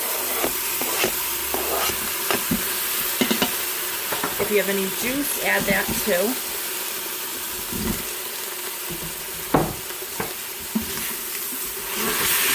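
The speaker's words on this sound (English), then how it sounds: "Stir that all around." Beef being stirred back into a hot Instant Pot for Mongolian beef, giving a steady close sizzle and frying hiss with scraping stir strokes, while a person talks over it.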